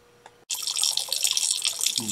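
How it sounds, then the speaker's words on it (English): Magnesium ribbon reacting in a liquid, a sudden onset of dense fizzing and crackling bubbles that continues steadily and close after a brief quiet start. "And it's bubbling."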